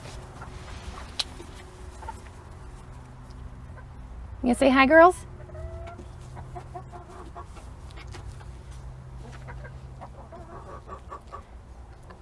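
Chickens kept together with goats give a short burst of clucking and squawking, fairly close, among quiet farmyard background, while someone speaks briefly.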